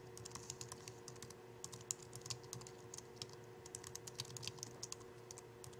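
Typing on a computer keyboard to enter a corpus name, a steady patter of light, close key clicks with small irregular pauses and no voices.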